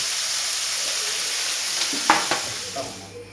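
Ground mince sizzles in oil in a pan on a small burner, a steady fizzing hiss with a few soft clacks of stirring near the end.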